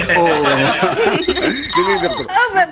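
A telephone rings in a household scene from a Hindi TV comedy, its electronic ringing tones running through the clip beneath and between continuous, lively speech from several people.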